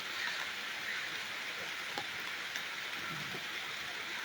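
Steady rain hisses continuously during flooding from a breached bypass road embankment in Bhuapur, Tangail, with a few faint drips standing out against the even downpour.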